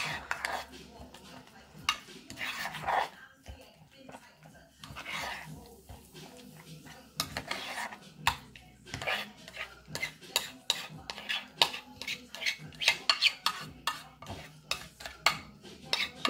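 A homemade exfoliating soap mixture with five crushed cloves being stirred in a bowl: repeated scraping and clinking of a utensil against the dish, close and quiet, with a dog whimpering intermittently in the background.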